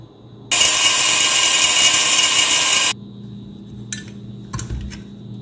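A sturdy grinder powers through hard dried peel, a loud high whine lasting about two and a half seconds, then cutting off to a few short rattling bursts as the ground powder settles.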